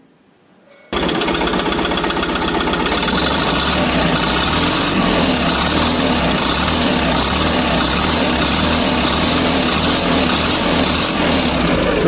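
A vehicle engine with leaking silencer packing starts after a second of quiet, then runs steadily and loudly at idle with a dense, rattling exhaust roar that holds unchanged to the end.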